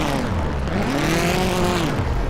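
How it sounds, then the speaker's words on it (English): Onboard a rallycross race car at Valkenswaard, the engine drones loudly as the driver brakes for a corner, drops to first gear and accelerates, with the pitch rising and falling under constant road and wind roar. "He brakes for the corner, first gear, gasses it."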